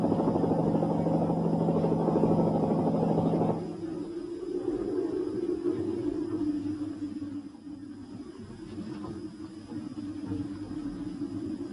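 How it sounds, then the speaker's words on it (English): A rescue helicopter flies during the harsh 1963 UK freeze over Dartmoor, its rotor and engine making a loud, steady droning hum that eases slightly as it moves away. "only helicopters could help."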